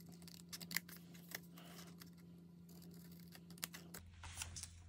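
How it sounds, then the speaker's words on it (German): Scissors cut paper while making a card, a few quick, faint snipping clicks scattered over a quiet background with a low hum, no talk. "Schneiden wir das hier auch einfach wieder mit der Schere"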